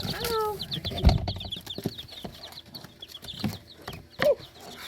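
Two-day-old chicks and ducklings peeping with rapid, high, thin chirps scattered throughout, plus a few louder calls and brief handling noises nearby.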